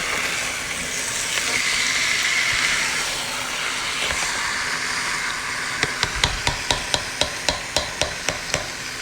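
Steady sizzling hiss of chicken in a pot for curry chicken, then a run of about a dozen sharp, evenly spaced metallic taps near the end.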